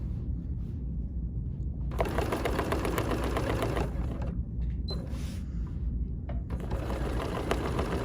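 An embroidery sewing machine stitches a sampler quilt block, its fast mechanical needle clatter running in several bursts over a constant low motor hum, close and fairly loud.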